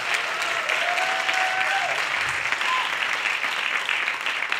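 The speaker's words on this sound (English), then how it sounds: "So let's give him another applause." Steady applause from a crowd, dense clapping that holds at an even level from start to finish, with a faint tone drifting faintly in the background.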